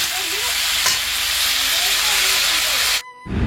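Goat meat frying and being stirred in a spice paste: a loud, steady sizzling hiss close up, with occasional scrapes of stirring, cutting off abruptly near the end.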